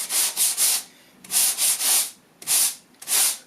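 Sanding old fibreglass bodywork filler by hand with 80 grit sandpaper while the filler is still soft: repeated close, loud rasping strokes in bursts of three, separated by short pauses.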